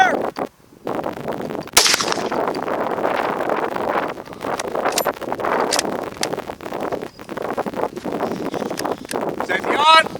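Gunfire outdoors on a farm, a string of sharp shots spread across the stretch with gusting wind noise on the microphone and brief voices between them.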